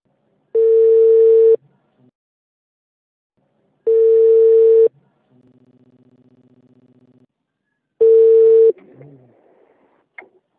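A telephone call's line tones sound loud and close: three long steady ringback beeps spaced about three seconds apart, with a softer lower buzzing tone between two of them and faint noises near the end.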